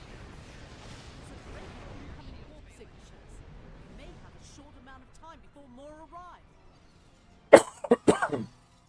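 After a stretch of low, murmured talk, a person gives a few sharp, loud coughs in quick succession near the end.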